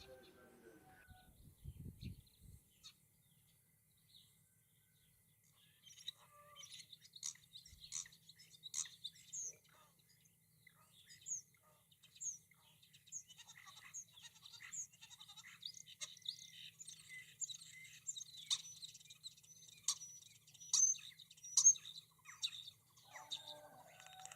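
A starling sings a long, rambling stream of faint chirps, whistles and rattling notes that builds over about twenty seconds, heard alone at a distance.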